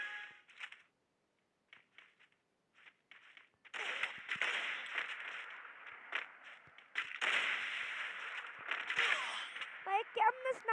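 Sniper rifle shots in a video game, sharp cracks scattered through the clip amid dense game action and bursts, with a quiet stretch early on.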